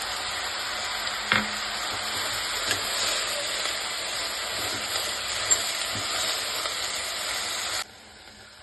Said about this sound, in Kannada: ಹೀರೆಕಾಯಿ, ಸೀಮೆ ಬದನೆಕಾಯಿ, ಇದು ಗಡ್ಡೆಕೋಸು ಇಷ್ಟು ಹಾಕಿ ಚೆನ್ನಾಗಿ ತಿರುಗಿಸ್ಬಿಡಿ